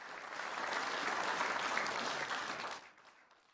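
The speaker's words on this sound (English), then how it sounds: "Let's get the clapping going." An audience at an anniversary reading applauds for about three seconds, a dense burst of clapping that swells and then fades out.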